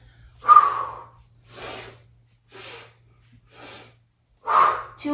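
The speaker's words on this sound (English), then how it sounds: "Inhale, inhale, inhale." Repeated sharp inhaling breaths through the nose during a yoga flow, five quick, close sniffs spaced about a second apart with silence between, the first and last strongest.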